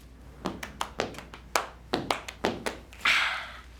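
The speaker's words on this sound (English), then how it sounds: "a little throwback into my amazing step dancing ability" Step dancing footwork: a quick run of about a dozen crisp taps and clacks in uneven rhythmic bursts, close and fairly clear, ending in a brief hissing swish.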